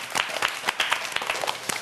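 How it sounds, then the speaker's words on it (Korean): Congratulatory applause from a studio audience on a Korean variety show, a dense run of many hands clapping with scattered sharper claps, steady and fairly loud for a couple of seconds. "자 그럼 마지막으로 축하의 박수 다시 한번 부탁드립니다."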